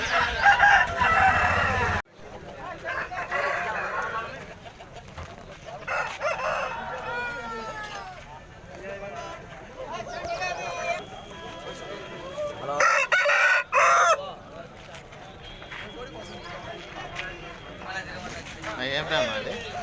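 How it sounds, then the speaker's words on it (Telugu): Fighting roosters at a village market in Mydukur crow repeatedly, with drawn-out calls and some clucking mixed with a steady hubbub of nearby people talking. "ఇవన్నీ బెర్స పుంజులు ఫ్రెండ్స్, పందెం పుంజులు ఇవన్నీ"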